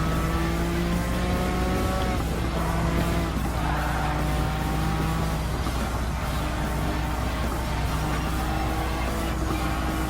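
Race car engines roar continuously with shifting pitch and tyre noise during a lap in the Gran Turismo 7 video game, steady and close with no talk over them.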